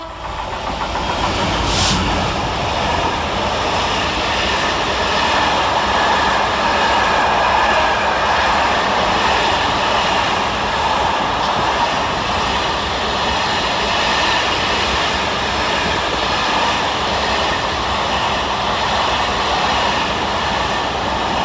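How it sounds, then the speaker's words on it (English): Freightliner Class 66 locomotive 66549 hauling a freight train through St Helens Junction station, a steady, loud, continuous rumble of engine and rolling wagons with hiss, sustained throughout with no talk. "Passing through the station 10 minutes late is 66549, working 4 Golf 99 from Seaforth CL Freightliner to Hams Hall"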